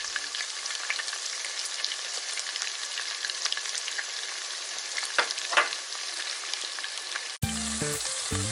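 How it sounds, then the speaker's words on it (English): Onions frying in a pot, a steady bright hiss and crackle of sizzling oil held for several seconds, with a brief stir, then an abrupt change near the end. "allow the onions to cook a little bit before we add our paste"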